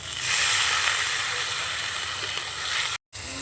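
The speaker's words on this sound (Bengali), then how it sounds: "এবার কড়াইতে দিয়ে দেব অল্প জল।" A small splash of water hits a hot wok after frying onion and garlic, setting off a loud, close, steady hiss of sizzling steam that holds for about three seconds before cutting off abruptly.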